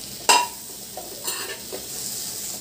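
Fried pumpkin pieces and green peas are stirred into a pan, with a sharp scrape near the start, then a soft sizzle and a few lighter stirring touches, close and fairly quiet.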